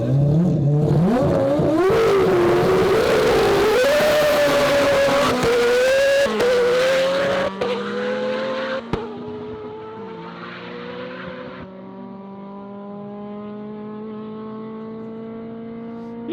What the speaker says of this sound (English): I'm going to do one last little, mostly launch, just to show them what the car looks and sounds like